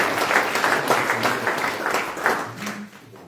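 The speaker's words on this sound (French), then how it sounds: "vous pouvez vous applaudir" Audience applause at a local public meeting, steady dense clapping from a room of people that fades toward the end, with a voice faintly present underneath.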